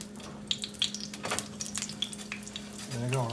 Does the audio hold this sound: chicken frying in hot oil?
yes